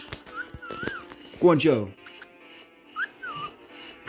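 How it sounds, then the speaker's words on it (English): A bird whistles a solo of short, clear rising and falling notes in separate phrases, close and fairly quiet, with a voice speaking briefly in between. "You've been doing a whistle solo anyway."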